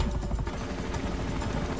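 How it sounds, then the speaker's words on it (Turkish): A helicopter in the video game GTA 5 hovers overhead, its steady rotor thumping and engine roar filling the whole stretch loudly and continuously, with no talk. "helikopter tepemizde"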